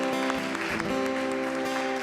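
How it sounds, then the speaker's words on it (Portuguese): A church congregation claps in joy during an evangelical worship service, a brief dense burst of applause over sustained organ or keyboard chords. "Uma salva de palmas de alegria."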